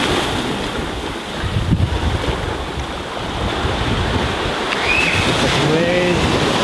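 Ocean surf surges onto the shore at Auckland, a steady loud roar of rushing water mixed with heavy wind buffeting the microphone, with faint distant voices and a brief high squeak near the end.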